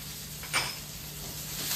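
Curry leaves dropped into hot oil while cooking paneer 65, giving a brief close sizzling hiss that flares up and then settles into a steady crackle.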